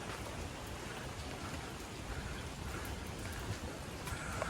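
Rain falls steadily near a beach hostel, a soft, even patter of many drops on surfaces with no pauses, fairly faint and uninterrupted by voices.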